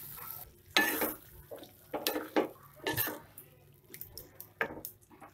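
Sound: stirring a potato, onion and tomato mixture

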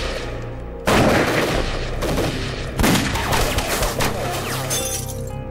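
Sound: gunfire in a war film battle scene

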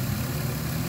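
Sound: Lexus GS300 2JZ-GE engine idling

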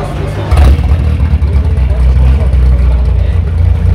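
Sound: Chevrolet Vectra 2.2 engine revving with straight exhaust

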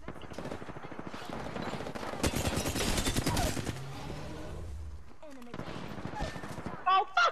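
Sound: gunfire in video game Apex Legends

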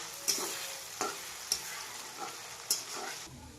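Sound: fried onion and tomato being stirred in a pan

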